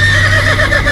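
A horse neighs as a sound effect for a horse-headed tikbalang creature in a Filipino folk tale, one loud, close, wavering whinny.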